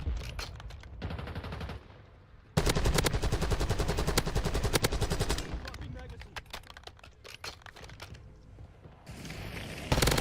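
Call of Duty Warzone gunfire, with rapid automatic bursts that start and stop in clusters, loud and close, broken by short quieter gaps and mixed with other game sounds.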